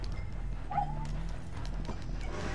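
Horse galloping through the open world in the game Red Dead Redemption 2, a steady run of hoof clops under game ambience with a short whinny-like call partway through.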